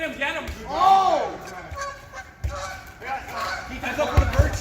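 A goose honks loudly at a lively outdoor event with a crowd, the call arching up once near the start amid shouting voices and cheering throughout.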